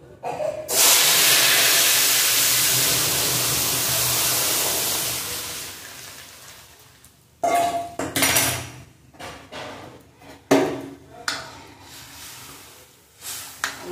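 Mango dal poured into a kadai of hot fried mustard-seed tempering bursts into a loud, sustained sizzle that slowly fades, followed by scattered clinks and scrapes of utensils against the pan.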